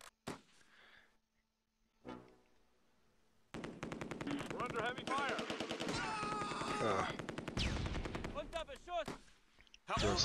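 Heavy machine-gun and rifle fire rattles in dense bursts during a World War II battle at Nijmegen's north bridge in Close Combat II, starting after a few sparse shots and sustained loudly to the end, with a voice speaking over it.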